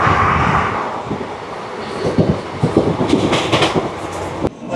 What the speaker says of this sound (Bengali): আমাদের ট্রেন এখন বর্ধমান স্টেশনে ঢুকছে।